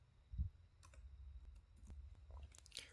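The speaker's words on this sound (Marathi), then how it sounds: "आणि ओके बटनवरती क्लिक करायचं." Mouse buttons clicking on a computer while a drill jig body part is modelled in Siemens NX 12.0 CAD software: a few sparse, faint, close clicks over quiet room noise, with no talking.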